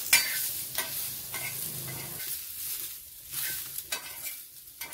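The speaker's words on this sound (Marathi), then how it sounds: "धणे बडीशेप यात घातलेत ना ते सुद्धा आपण छान परतून घ्यायचे" Coriander seeds, fennel and tomato roasting in a pan for egg curry, stirred steadily: a continuous close sizzle with repeated scraping strokes of the spoon at an irregular rhythm.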